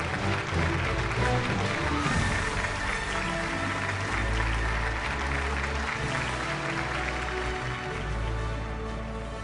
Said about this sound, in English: Let's have a big round of applause, ladies and gentlemen.